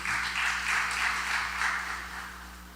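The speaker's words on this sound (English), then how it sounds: "give our dear sister a round of applause there." Audience applause at a memorial gathering following a prayer, a steady, dense wash of clapping that holds for a few seconds and then gradually thins and fades.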